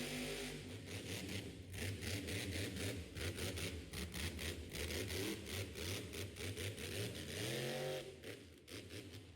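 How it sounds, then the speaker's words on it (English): A mud racing truck's engine revs hard in reverse at a muddy motorsports event, with loud, rising and falling pulses of engine roar and a brief drop in pitch near the end. "He's going to have to reverse the truck."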